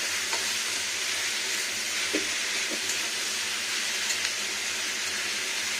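Achari cabbage with spices sizzles steadily in a frying pan, with soft scraping stirs and a few light clinks over the constant frying hiss; no one speaks.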